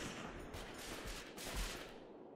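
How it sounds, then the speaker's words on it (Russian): Gunfire in the RimWorld video game comes as a dense, continuous fusillade of rapid distant shots, quiet and steady throughout. "Продолжает стрельбу"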